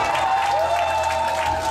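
A hall audience applauds at a comic awards show, a dense, even wash of clapping held for a moment, with a steady tonal hum running beneath it.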